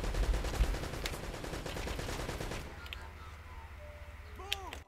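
Rapid gunfire from an enemy in Uncharted: Drake's Fortune Remastered, a dense, loud burst of shots for about two and a half seconds, then quieter game ambience with a couple of faint chirps.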